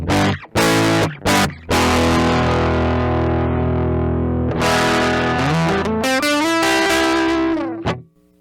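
An electric guitar plays through a distortion pedal captured with the SmartPedal plugin, giving a thick, saturated tone; chords ring out with short choppy stabs at first, then a long sustained chord and a descending run of notes.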